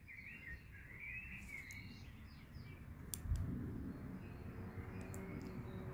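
Birds sing outdoors on a warm April day: faint, scattered chirps and short warbles over a steady, broad background rumble that swells briefly midway.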